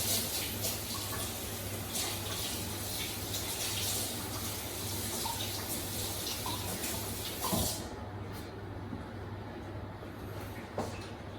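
Tap water runs into a kitchen sink while a spatula is washed, a steady hissing gush with brief clatters before the flow stops and quieter handling follows.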